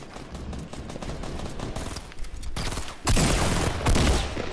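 Rapid gunfire in the Fortnite battle royale video game, sustained bursts of dense automatic fire throughout, growing louder and heavier in the second half, with no talk over it.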